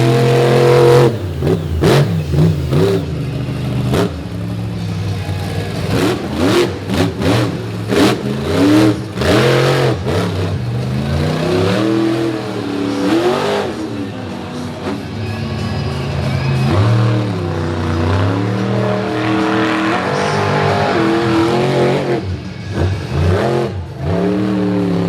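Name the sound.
FTI Torque Ram monster truck engine revving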